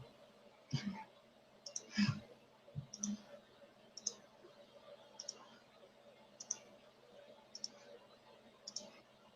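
A computer mouse clicks repeatedly during Fusion 360 CAD modeling, sharp and close with single clicks spaced about a second apart, alongside a few low soft thumps near the start.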